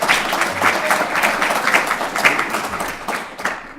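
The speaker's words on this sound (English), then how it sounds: "Let's give Professor Stephenson a round of applause on his birthday" An audience claps for Professor Stephenson's birthday at the opening remarks of an event, producing dense, steady applause that fills the room for a few seconds and holds fairly even throughout.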